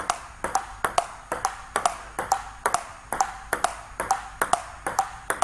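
A table tennis ball bouncing in a steady, regular rhythm, about a dozen sharp, bright pings evenly spaced, close and clear with nothing else heard.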